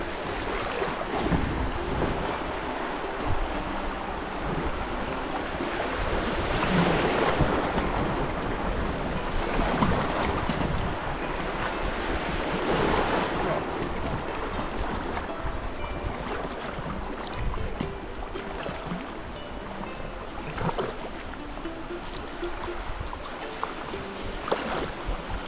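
Waves wash up and surge along the shore, a continuous loud rushing roar that swells and recedes over about twenty-five seconds, mixed with wind buffeting the microphone and no talking.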